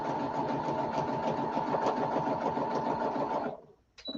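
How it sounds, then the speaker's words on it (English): A sewing machine stitches in a steady, fast mechanical whir with dense rapid needle rhythm for about three and a half seconds, then stops abruptly, followed by a brief faint click near the end. "while I'm sewing"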